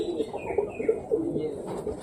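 Pet pigeons coo steadily up close at home during feeding, a series of low rounded coos repeating about every quarter second, with faint higher chirps behind.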